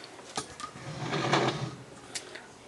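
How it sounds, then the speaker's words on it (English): A Singer Spartan 192K sewing machine's hand wheel turns against the bobbin winder tire, making close mechanical whirring with a few sharp clicks and a louder swell in the middle. "Now the winding tire is making contact with the hand wheel."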